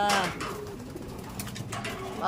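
Close, low pigeon coos in soft rolling phrases, with a brief flutter of movement partway through.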